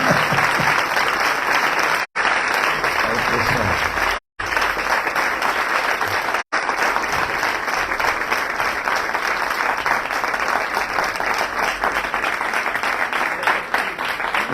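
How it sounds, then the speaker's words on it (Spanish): An audience claps steadily for the winner at the close of an event, sustained loud applause throughout with brief cut-outs. "Pido un muy fuerte aplauso a nuestro"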